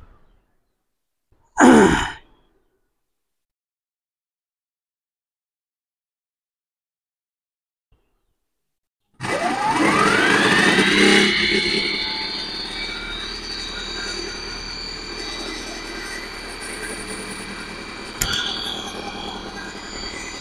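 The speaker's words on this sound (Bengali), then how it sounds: "তো আমি মেশিনটা স্টার্ট করতেছি আপনাদেরকে দেখানোর উদ্দেশ্যই" An engine-driven DC alternator producing 144 volts to light twelve bulbs. After a short noise and a long silence, the engine catches and revs up with a rising whine, then settles into a steady, loud running drone with a brief clatter partway through.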